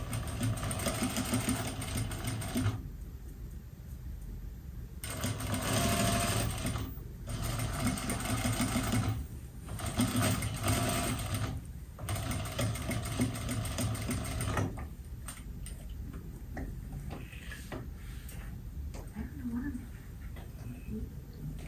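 A sewing machine bastes a zipper onto a welt-edge pillow, running in several loud, close bursts of rapid stitching broken by short pauses, with speech over parts of it.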